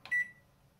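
An LG charcoal convection microwave oven, model MJ2886BFUM, gives a single short, clear electronic beep as it is cancelled, followed by faint room hum.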